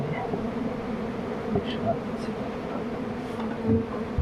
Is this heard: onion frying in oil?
no